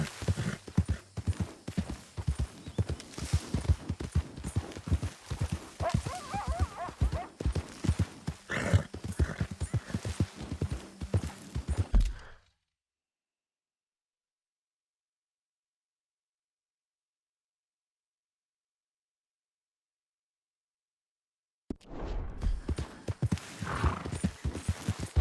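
Horse hooves clip-clopping in Red Dead Redemption 2, a steady rhythmic gait with occasional whinnies, loud and close, breaking off into total silence midway before the hoofbeats resume.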